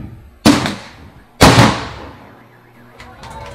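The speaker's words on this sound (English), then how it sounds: "We would like to inform everyone that we will be hearing an explosion." A bomb disposal disruptor fires twice in succession during a navy demonstration, each a sharp, loud blast with a trailing rumble, about a second apart, followed by faint fainter pops near the end.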